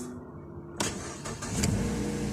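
A 2011 Mazda car engine catching after a silent pause, cranking then settling into a steady idle with faint revving, heard close and alone.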